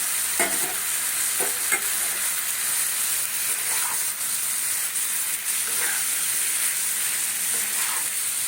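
Fried potatoes tipped into a sizzling soybean and potato curry: loud, dense hissing sizzle with steam throughout and a few soft stirring knocks near the start, no talking.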